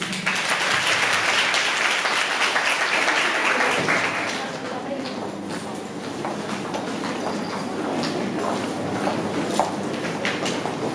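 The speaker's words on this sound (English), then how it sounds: "A round of applause," An audience at a student speech contest claps for a sophomore English education student, dense and loud at first, then thinning into scattered, quieter claps with a voice faintly present.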